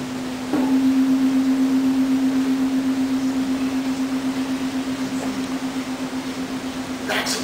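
Struck tuning forks sound a steady pure tone in a lecture hall, pulsing in slow regular beats as the loudness swells and fades, starting abruptly after a brief quiet moment with a faint knock near the end.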